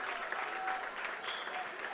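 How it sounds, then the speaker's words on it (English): Crowd applause at a Perham vs Hawley Minnesota boys high school basketball game, a steady, moderately loud wash of clapping filling the whole brief moment. "Warmed up by a nice applause from the Perham faithful."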